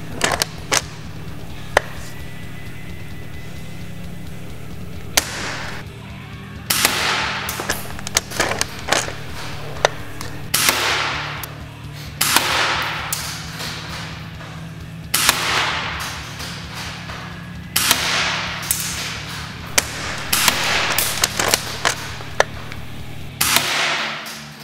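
A G&G G980 Mauser Kar98 airsoft rifle fires BBs, sounding as a series of sharp separate cracks spread across the stretch, with bolt clicks and handling noises between shots over a steady low background hum.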